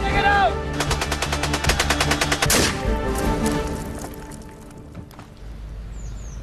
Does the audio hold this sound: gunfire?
yes